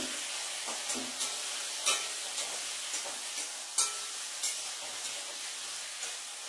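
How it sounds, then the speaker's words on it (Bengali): Black cumin seeds sizzle in hot oil in a home kitchen before potatoes go in for a curry. A soft, steady hiss runs throughout, broken by small pops and crackles every half second or so, with no speech. "তেল চাপিয়ে দিলাম, ওর মধ্যে কালো জিরা দিলাম"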